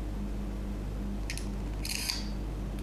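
Nokia E90 phone camera taking a close-up macro shot, two short, bright electronic shutter clicks over a low steady background hum, with no talking.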